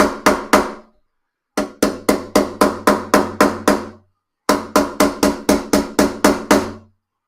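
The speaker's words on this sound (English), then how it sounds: "make sure we get a good hammer on that end" A rubber-ended hammer taps new frets into a vintage classical guitar in three close bursts of quick, evenly spaced knocks, with short silent gaps between the groups.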